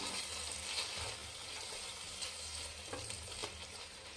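Four beaten eggs fry in oil in a pan for hotel-style egg rice, a steady near sizzle with a few light scraping clicks from stirring, without speech.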